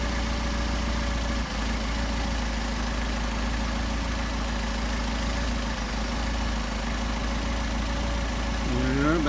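Car engine idling steadily while twin Solex 44PHH carburetors are tuned, a continuous low rumble close by with no speech, rising slightly as the revs lift at the very end.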